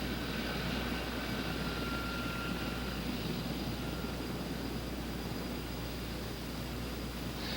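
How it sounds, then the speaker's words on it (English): CH-54 heavy-lift helicopter taxiing into position over a heavy load, a constant dense roar of turbine and rotor noise, steady and unbroken with a faint high whine, no voices. "The second means of positioning the CH-54 is that of taxiing into position over heavy loads"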